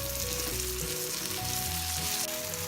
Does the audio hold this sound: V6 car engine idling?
no